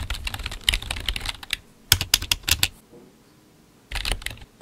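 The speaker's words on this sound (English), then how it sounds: "She's typing on her computer like," A woman types on a computer keyboard, rapid clicking bursts of keystrokes broken by short pauses, close and crisp with no talking.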